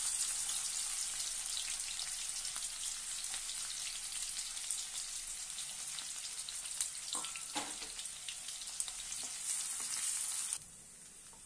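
Sliced onion and a pinch of fenugreek seeds fry in hot oil for a fish curry, a steady dense crackling sizzle with scattered pops and a brief clatter near the end before the sizzle drops quieter.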